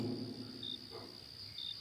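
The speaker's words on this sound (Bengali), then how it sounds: "আশেপাশে তীব্র ঝিঝি পোকার ডাক" Crickets chirp at night in a village in a Bengali horror cartoon, with two short, shrill trills over a steady high drone and a quiet, low background.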